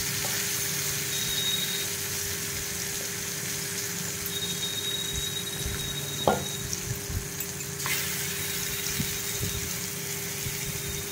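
Brinjal slices frying in hot mustard oil on a flat tawa, a constant close hiss and sizzle with occasional spatula scrapes and a few clicks, no talking.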